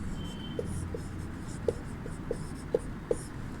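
Writing on a board during a Sanskrit class, heard as a series of faint, irregular taps and scratches spread over a few seconds against a low room hum, with no talking.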